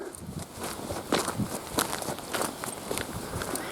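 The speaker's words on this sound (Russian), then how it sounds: "По асфальту шагается бодрее." Quiet, steady footsteps walking on a hard road surface, a regular brisk rhythm of scuffing steps.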